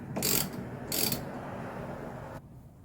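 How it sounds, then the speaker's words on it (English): A throttle body hose clamp on a Toyota FJ Cruiser or 4Runner being loosened, two short close ratcheting bursts followed by faint handling noise in a quiet garage. "right now I'm just loosening up the clamp."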